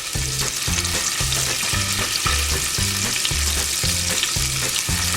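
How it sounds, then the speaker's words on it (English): Pieces of beef for beef burgundy sear in a hot pan with a loud, steady sizzle and crackle, and a regular low thumping pulse runs beneath it, with no talking. "Now it's time to add the beef"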